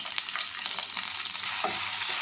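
Eggplant pieces sizzle in hot oil in a pan for a Tamil eggplant curry, with a close, continuous frying hiss and soft scraping stirs throughout.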